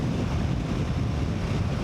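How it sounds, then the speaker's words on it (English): Strong wind buffets a rider on a Royal Enfield Himalayan motorcycle at speed, a constant loud, low rushing roar with no break. "the wind is already quite too much today here"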